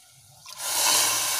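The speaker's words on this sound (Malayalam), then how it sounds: "ഇതിന് ഒരു നികക്ക വെള്ളം ഒഴിക്കണം." In a kitchen, water is poured onto sugar in a pan to make syrup for jalebi, beginning as a short faint trickle that swells into a steady, close rushing pour.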